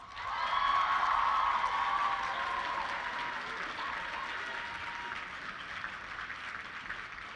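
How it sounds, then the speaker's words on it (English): A graduation ceremony crowd applauds the graduating class's parents, dense clapping that swells quickly, then slowly thins and fades over several seconds. "So let's give them a big round of applause."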